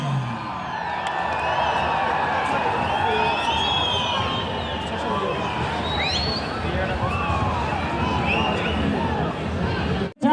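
A stadium crowd cheers and whoops steadily at a Northeast United FC versus Mumbai City FC football match, with dense babble and scattered shouts that hold at a constant loud level and then cut off abruptly at the end.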